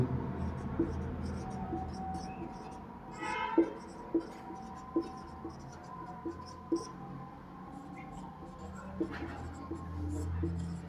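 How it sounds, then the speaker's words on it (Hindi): Pen or chalk writing notes during a physics lesson on spherical lenses, with short scratchy strokes repeating in an irregular rhythm beneath a low hum, close and faint. "तो इसकी खास बात भी लिख देते हैं अपन।"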